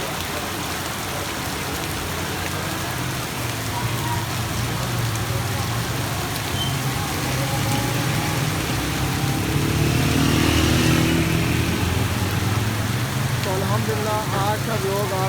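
Heavy rain falls in a Lahore neighbourhood during a dangerous storm, a constant loud wash of noise with a low traffic-like hum beneath and faint voices in the background.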